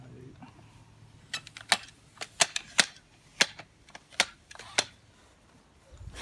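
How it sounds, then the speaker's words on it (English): Steel lock pins on a Xtend & Climb PROSERIES 930p telescopic ladder snap into place as its sections extend, giving a string of sharp, close metallic clicks at irregular intervals with faint background noise between them. "Try to extend it until the steel lock pins are secured in place."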